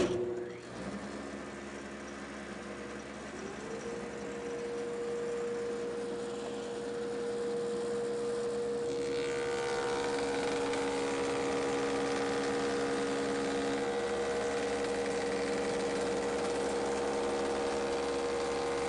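A Woodmaster planer molder runs steadily for a long stretch with a droning motor hum, and its tone rises and fills out partway through, loud and close with no talk.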